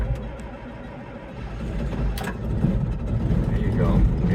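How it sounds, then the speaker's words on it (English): Old farm tractor engine cranking and catching, a rough low rumble that grows louder and steadier toward the end, with someone speaking near the start. "And we're gonna start this old tractor."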